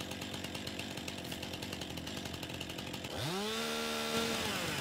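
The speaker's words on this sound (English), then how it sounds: "Chainsaw out." In Farming Simulator 19, a chainsaw, a McCulloch, sits among cuttable hedges. A steady game ambience runs first, then the chainsaw roars up and holds a loud, buzzing idle-to-rev whine.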